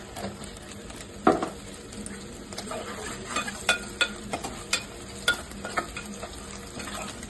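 Dried shrimp fry in oil with a soft continuous sizzle, punctuated by repeated scraping and tapping of a spoon stirring the pan at irregular intervals.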